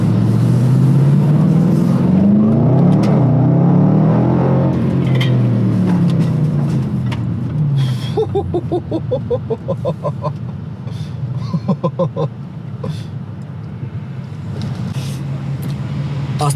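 A Range Rover SVR engine revs up and down loudly several times, then settles into a rumbling idle with crackling bursts from the exhaust.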